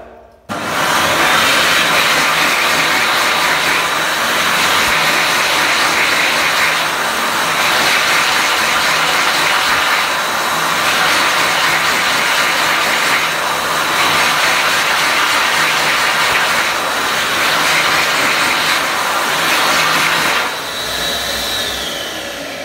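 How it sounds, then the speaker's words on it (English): An XL Dryer Accelerator hand dryer in an Australian washroom blasts a loud, steady roaring rush of air for about twenty seconds before the motor spins down. "Today we have an XL dryer accelerator, as you can see."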